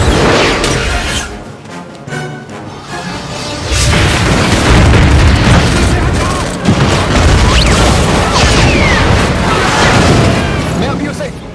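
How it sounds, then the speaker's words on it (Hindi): Gunfire and explosions in a Fantastic Four movie scene, loud booming blasts and rumbling bursts filling the soundtrack, with voices speaking amid the noise. "फायरिंग शुरू करो।"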